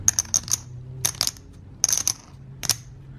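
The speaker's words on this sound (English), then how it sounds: "that is an unmistakable classic ceramic sound" 39mm ceramic poker chips clacking together in short bright bursts, several quick clicks per group, close and crisp against near silence.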